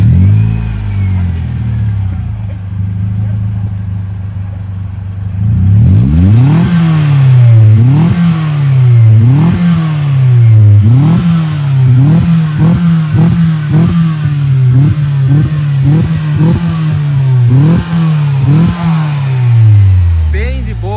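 A Mitsubishi Lancer GT with a sport exhaust and sport air filter starts after a quiet moment and is revved repeatedly in short, loud blips that rise and fall close by, with voices talking between the revs.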